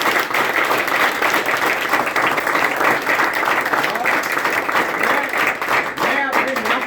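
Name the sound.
audience applause for parents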